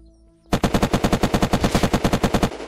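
Rapid automatic gunfire in the PvP video game Unturned, a loud, close burst of about twenty evenly spaced shots lasting roughly two seconds, then quiet.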